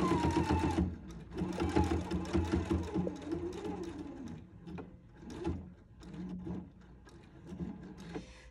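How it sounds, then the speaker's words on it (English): A sewing machine stitches along the edge of a dress, running in a steady close whirring drone that pauses and restarts in several shorter bursts with mechanical clicks between them. "I'm actually just gonna sew right up off the edge here"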